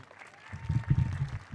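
A short, faint burst of audience applause at a Mexican Independence Day celebration at a museum in San Francisco.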